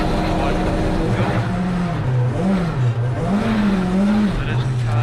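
A 300bhp Vauxhall Chevette rally car launches from the start line, its engine revving hard and loud up through the gears with rising and falling pitch, close and continuous for the whole stretch.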